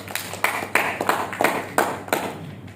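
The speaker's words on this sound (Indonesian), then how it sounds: "Tepuk tangan untuk Kang Isbat." A small group claps at a protest gathering in Cilegon, the claps coming as a loose, uneven series of sharp bursts over a low steady hum, close and moderately loud.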